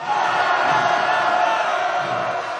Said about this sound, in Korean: 승리함성 시작.